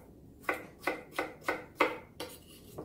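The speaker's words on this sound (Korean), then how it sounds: "감자는 깍둑썰기로 썰으시면 됩니다" A knife dices potatoes into cubes on a cutting board, six crisp, evenly spaced chops landing roughly every third of a second, close and clear with no talk.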